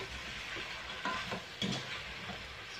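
Pork sinigang being stirred in a pot after fish sauce is poured in, with a soft simmering bubble and faint intermittent scraping of a spoon against the pot.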